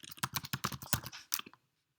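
Quick burst of keystrokes on a computer keyboard, a dense run of clicks for about a second and a half before stopping, close and fairly quiet with no talking.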